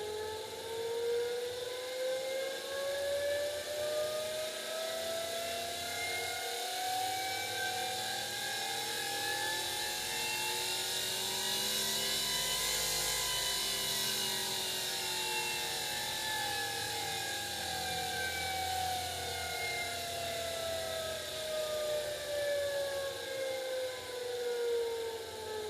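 An electric motor runs steadily with a whine whose pitch sweeps upward then back down as its speed is varied, loud and continuous throughout with no voices.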